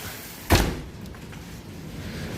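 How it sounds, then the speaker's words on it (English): A door pulled shut during a light hailstorm, one sharp close thud early on followed by a steady, soft background hiss. "I'm gonna close this door."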